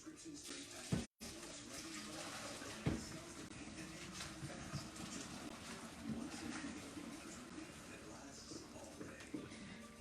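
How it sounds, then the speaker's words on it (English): Pasta water poured out into a kitchen sink, a steady rushing splash lasting throughout, with a couple of sharp knocks from the pot near the start. "I'm going to just drain the pasta"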